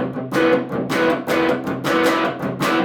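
A distorted electric guitar chord with an added sharp 11, strummed four or five times in a steady rhythm, each strum loud, dense and buzzing, with no talking.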